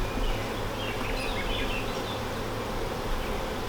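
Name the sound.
honeybees buzzing at hive after queen release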